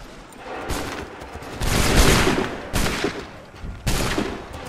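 A gunfire volley in Assassin's Creed 3, several overlapping musket blasts rolling in three or four loud waves, dense and close with rumbling tails between them.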